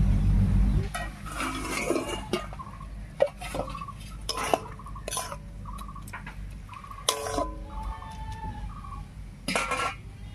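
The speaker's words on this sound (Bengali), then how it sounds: "এবারে ঢাকা খুলে নামিয়ে নিচ্ছি।" Metal pot lid lifted off a pot of telakucho greens with potato and the pot set down off the heat, several sharp clinks and clatters over low background hum.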